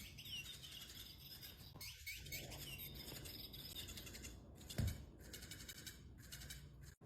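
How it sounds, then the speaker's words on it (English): A robotic toy bird chirps continuously in a home with a cat, a steady, bright electronic twittering with one brief thump midway, close and clear. "gifting me her robotic bird"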